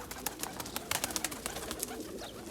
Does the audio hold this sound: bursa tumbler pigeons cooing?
yes